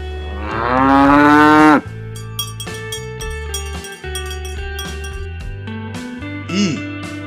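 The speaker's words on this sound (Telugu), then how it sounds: "ఆవు." A cow gives one loud, long moo up close at the start. A sustained background melody and bright musical tones keep playing under it and after it.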